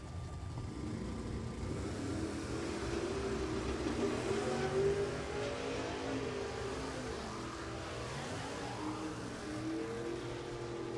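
Drag racing at a night funny car meet, a Corvette running the quarter mile, heard as a steady loud engine roar with rising and falling revs from passing cars, heard at a distance and continuous throughout.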